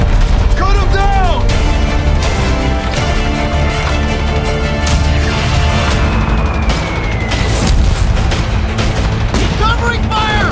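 Covering gunfire and explosions in the video game Company of Heroes 3, dense overlapping rifle and machine-gun bursts with booming blasts packed closely together, loud and continuous, with voices shouting over the battle.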